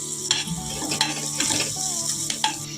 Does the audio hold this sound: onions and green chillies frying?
yes